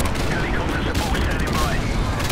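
Airstrike in Modern Warfare Remastered, a dense, continuous barrage of explosions and gunfire rumbling loud and unbroken through the whole stretch, with game noise layered throughout.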